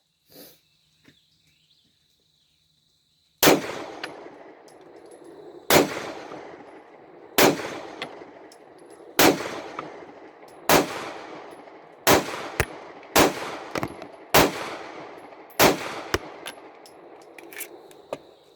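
A 9mm Rock Island 1911 pistol fires at an outdoor range, about nine loud, sharp shots at irregular intervals, each followed by a short echoing decay, after a quiet lead-in.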